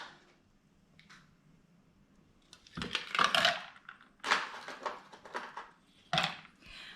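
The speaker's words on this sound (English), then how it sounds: "Now it's time for ice." Ice cubes clatter and clink into a gin cocktail in several bright, close bursts separated by short pauses, over a quiet background hum.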